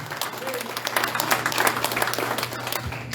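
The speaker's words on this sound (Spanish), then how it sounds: "Denle un aplauso grande al Señor." Church congregation applauding together during a Spanish-language sermon, a dense, steady wash of clapping that holds for the whole stretch with a voice faintly underneath.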